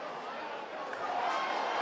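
Rugby league crowd at a Warrington versus Swinton cup match in 2011, a steady broad roar of many voices, fairly loud throughout and swelling slightly toward the end.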